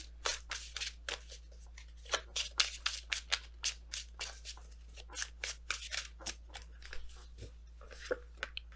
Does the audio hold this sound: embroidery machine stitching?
no